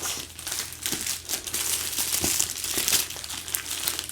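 A book package being opened with scissors, its plastic or paper wrapping crinkling and rustling continuously and close by, with a few sharper tearing snaps.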